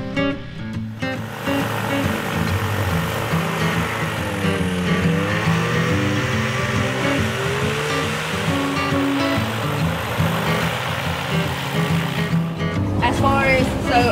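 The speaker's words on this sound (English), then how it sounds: "The Quicksilver we are talking about today is a Rotax two-stroke, model 582 Bluehead, and is a popular engine in many ultralight and ultralight training aircraft." A Rotax 582 Bluehead two-stroke engine on a Quicksilver Sport 2 ultralight trainer drones steadily and loudly nearby, a continuous buzzing roar whose pitch wavers slightly throughout.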